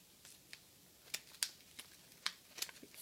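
Scissors snip paper in a series of sharp, quiet cuts, irregularly spaced with some quick pairs, close by and with no talking.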